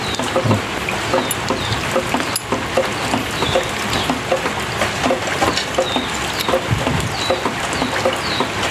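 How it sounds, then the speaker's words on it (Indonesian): Heavy rain pours down in a loud, dense, continuous patter, with a few faint higher calls rising over the steady downpour. "Hujannya makin deras."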